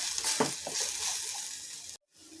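Chickpea masala of onion and tomato puree is stirred and roasted in a pan, giving a soft sizzle with a few scraping strokes, cut off abruptly near the end.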